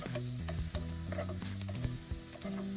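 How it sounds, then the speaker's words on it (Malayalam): Chopped garlic and onion sautéing in hot oil in a pan, a close, steady sizzle broken by repeated scraping stirs and clinks of a utensil, with no voices. "ആദ്യം നമ്മൾ ഇതിലേക്ക് അരിഞ്ഞു വെച്ചിട്ടുള്ള വെളുത്തുള്ളി ഇട്ട് കൊടുക്കുകയാണ്"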